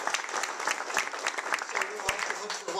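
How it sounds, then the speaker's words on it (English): An audience at an anniversary celebration claps in dense, continuous applause, moderately loud and steady throughout, with a roomy crowd quality. "That's worth applauding."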